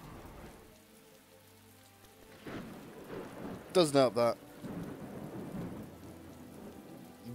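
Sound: rain and thunder in Stargate Galactic Conquest video game

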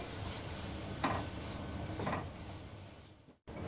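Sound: flour frying in butter on a slow flame

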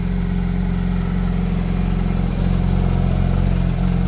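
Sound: car engine revving

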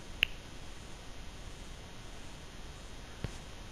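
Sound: finger snap

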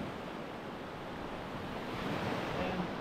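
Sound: waves on a beach in Crete

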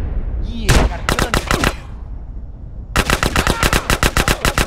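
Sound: gunfire from a gun in the video game GTA San Andreas

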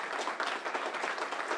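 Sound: audience applause at a graduation

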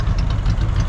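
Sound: El Camino engine idling, exhaust sound

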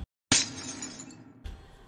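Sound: modified Minecraft glass breaking sound effect in a video game

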